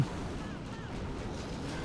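Bomb explosions in the Clash of Clans strategy game form a continuous low, rumbling barrage of blasts, fairly quiet and steady throughout.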